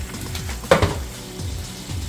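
Lamb chops fry in a hot pan with a steady close sizzle and crackle, broken by a brief clatter as a chop is turned over, with no voices.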